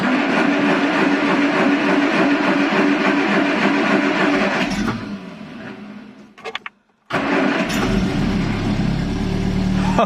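A stock Triumph Dolomite 1300 engine on a dyno drones loudly and steadily, then drops off and cuts out briefly before catching again and roaring back up to full, continuous running.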